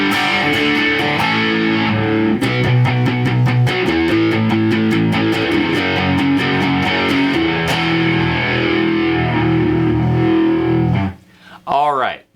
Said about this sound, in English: Right now, we have the distortion pedal going into my Behringer Vintage Phaser.